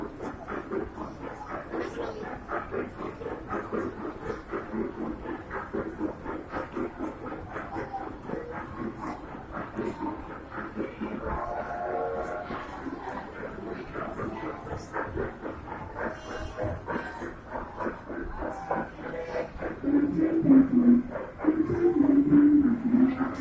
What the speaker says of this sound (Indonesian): Kereta yang mau berhenti.